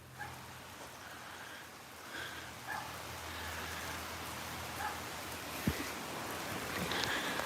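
Steady rain patters across the whole stretch, a soft even hiss with a few heavier drops and a faint low rumble underneath.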